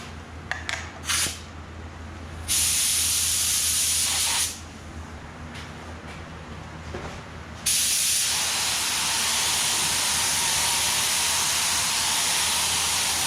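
A spray gun lays basecoat paint onto a car panel in a steady, loud hiss, starting and stopping in long passes with short breaks, the final pass running continuously to the end.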